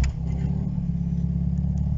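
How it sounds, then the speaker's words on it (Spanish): A Ford Fiesta MK3 1.1i 8v 60cv petrol engine starts and settles into a steady, low idle, close and loud, with no talk. "Y le damos al motor."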